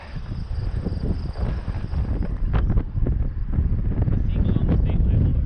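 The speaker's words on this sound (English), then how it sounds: "It's kind of windy" Strong wind buffets the microphone in continuous rumbling gusts, loud and close throughout.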